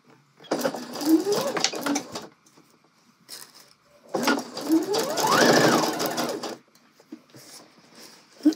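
Domestic sewing machine stitching a gathered skirt seam, running in two long motor bursts with a rising whir, separated by brief pauses and small handling clicks, close and fairly loud.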